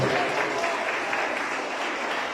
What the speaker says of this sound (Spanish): A ver, fuerte ese aplauso.